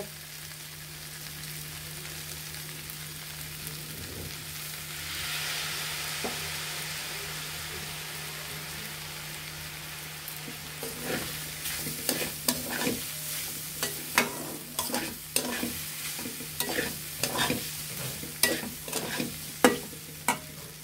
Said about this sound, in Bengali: আমরা এখানে 1 টেবিল পরিমাণের মতো 4 চামচের আমরা সয়া সস দিয়ে দেব।